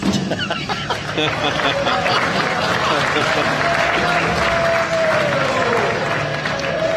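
At a cornhole world championship match, a crowd applauds and cheers steadily for several seconds, a dense continuous wash of clapping with voices mixed in throughout.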